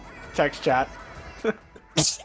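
A single sharp sneeze at the end, a sudden bright burst after a couple of short bits of a person talking.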